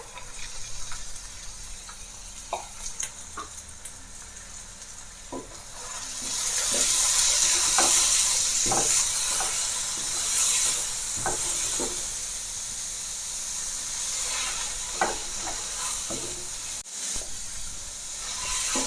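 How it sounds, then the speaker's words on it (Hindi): Chana dal frying in a pan: a soft background hiss swells into a loud, steady sizzle partway through, with clicking stir and scrape sounds from a spoon throughout and no voices. "दाल को हम 1 से 2 मिनट फ्राई कर लेंगे"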